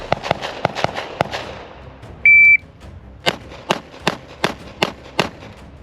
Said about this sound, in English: 6 rounds in 4 seconds from the low ready